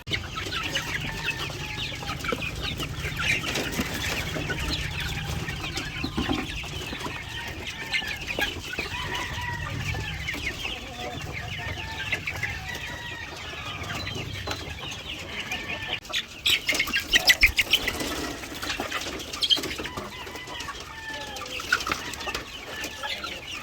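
Chickens and chicks on a farm clucking steadily throughout, a busy chorus of clucks and peeps with occasional wing flaps, louder bursts in the second half.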